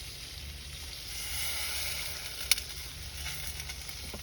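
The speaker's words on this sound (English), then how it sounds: "See how it's already fizzling?" Soft, steady sizzling hiss of water in a hot pot, fairly quiet and continuous, with a faint sharp tick partway through.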